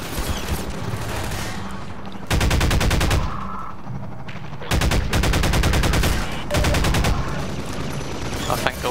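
Enemy gunship fire in the video game Half-Life 2 Episode 2 rattles out in loud, sustained automatic bursts, three long volleys separated by brief lulls filled with background game noise.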